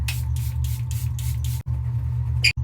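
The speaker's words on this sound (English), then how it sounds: "Airbrush Flawless setting spray." Charlotte Tilbury Airbrush Flawless makeup setting spray gives several quick, close hissing bursts in a steady rhythm, followed by two short sharper sprays.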